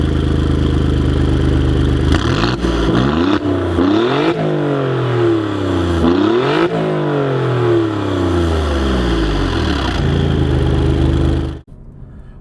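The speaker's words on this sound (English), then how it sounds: "once you get close to red line on downshifts, holy crap, it sounds good" A 2017 Alfa Romeo Giulia Quadrifoglio engine, loud and close, revving hard and blipping through repeated downshifts, with rising and falling engine pitch sweeping up and down before cutting off abruptly near the end.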